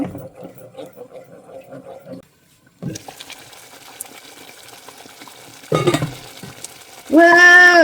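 Hot oil spatters and crackles in a pan of frying goat tripe, with quieter stirring and pauses before a louder burst of sizzling near the end.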